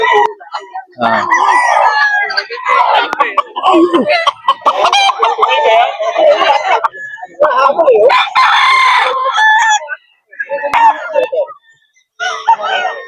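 Roosters crow repeatedly in loud, close bursts while chickens cluck between calls at a breeder farm selling fowl in Bocaue, with brief pauses of quiet between the outbursts.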